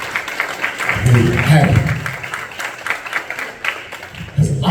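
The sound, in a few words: audience applause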